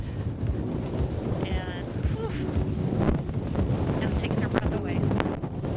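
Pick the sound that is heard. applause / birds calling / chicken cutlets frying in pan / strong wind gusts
strong wind gusts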